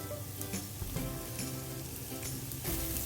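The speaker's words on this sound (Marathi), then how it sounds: "कोथिंबीर टाकू छान परतून घेऊया" Coriander and spices sauté in a hot pan for Nagpuri-style poha, a continuous close sizzle broken by a few soft stirring knocks, with no talking.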